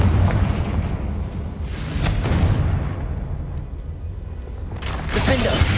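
Two booming blasts from the Confringo spell in Hogwarts Legacy, one near the middle and another at the end, each a broad crackling burst over a loud rumbling game background.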